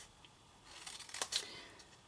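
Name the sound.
cutting cardstock with scissors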